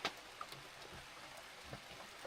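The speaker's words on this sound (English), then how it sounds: "Well, we woke up to rain again." Steady light rain patters on a deployed camper awning at a creekside campsite, a soft continuous hiss with scattered faint drips, no voices.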